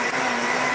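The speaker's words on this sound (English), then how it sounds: "I'm cleaning my blender for making my black bean muffins" A blender motor whirs steadily at close range while the appliance is being cleaned in a home kitchen, a loud, even, continuous drone with no talking over it.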